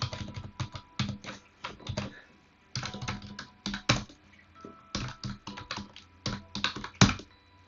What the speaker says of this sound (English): Let's try and type again.